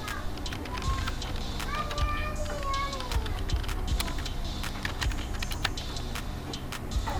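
Keystrokes on a computer keyboard as a real name is typed into a website account sign-up form: close, irregular clicks scattered throughout, over a steady background hiss, with a cat meowing a few times early on.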